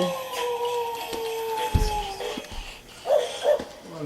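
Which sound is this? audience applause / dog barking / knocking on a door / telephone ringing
dog barking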